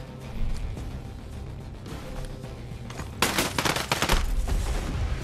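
Rapid bursts of tank turret machine-gun fire in Ghost Recon Breakpoint, loud and close, clustered heavily in the second half over a rumbling battlefield backdrop.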